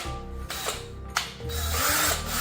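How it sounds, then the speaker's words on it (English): A power drill running at low speed spins a brush attachment to scrub wheel spokes, giving a steady mechanical whir with rattling and scrubbing bursts throughout and no talking. "you wanna make sure your drill is on low speed."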